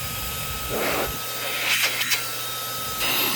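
A Fanttik X100 Mix cordless handheld vacuum cleaner runs with a steady high whine and airflow hiss, with a few brief louder rushes of air as it is handled up close.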